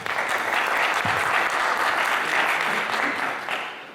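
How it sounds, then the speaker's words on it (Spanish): A lecture-hall audience claps steadily to welcome a professor at a university talk, dense sustained applause filling the room before tapering slightly at the end. "recibamos con un aplauso al profesor José Justo"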